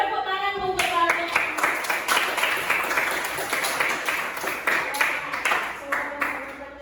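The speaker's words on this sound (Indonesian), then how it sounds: "Boleh tepuk tangan untuk kalian." A classroom of students claps for their classmates' answers, a burst of quick handclaps starting after a brief voice and carrying on steadily, with a teacher's voice faintly heard at the edges.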